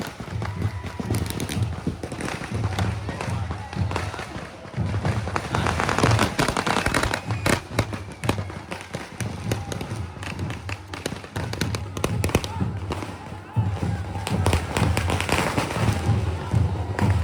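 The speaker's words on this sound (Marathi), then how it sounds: "इथे फटाक्यांची आतिषबाजी" Dense bursts of firecrackers and fireworks at a village palanquin festival, the Kunkeri Hudotsav, with rapid loud crackling and popping continuing nearly without pause throughout.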